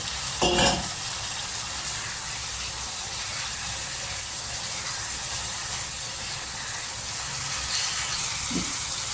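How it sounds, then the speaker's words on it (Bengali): Spiced masala with egg and potato being fried in oil, a steady close sizzle with stirring scrapes throughout and a brief louder clatter near the start, no talking. "এবার এটাকে ভালো করে কষাতে থাকবো যতক্ষণ না তেল এর মধ্যে থেকে বেরোতে থাকে"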